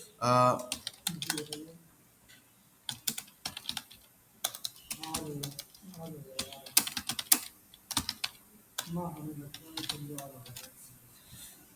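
Keys clatter on a computer keyboard in irregular bursts of quick taps with short pauses between, close and fairly quiet, while someone speaks Hindi between and over the typing.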